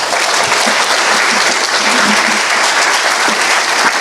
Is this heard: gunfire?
no